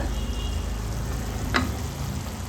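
Sugar syrup with saffron simmering in a pan for badusha, a continuous soft bubbling hiss with one brief sharper tick partway through.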